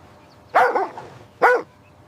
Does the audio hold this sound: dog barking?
yes